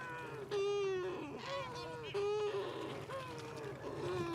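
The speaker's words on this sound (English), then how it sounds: "The Cory's shearwater." Cory's shearwaters calling at a Mediterranean coastal nesting site, harsh wailing, nasal honking cries repeated in several drawn-out bursts, fairly close and overlapping, with no talk over them.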